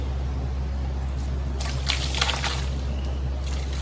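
Coolant, mostly water, splashes and trickles out of a Dodge Grand Caravan line into a catch pan during water pump work, a brief burst of close splattering over a steady background hum.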